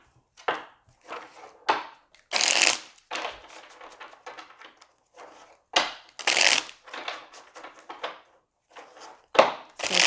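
Oracle cards being shuffled during a pick-a-card love reading, with repeated bursts of riffling and slapping in an irregular rhythm, close and fairly loud, with quieter flicking between bursts and no talking.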